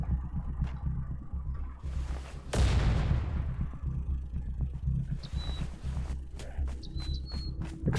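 A trebuchet in the survival game Night of the Dead launches exploding rounds, with one heavy booming blast midway followed by a rumbling tail, amid background game noise and scattered thuds.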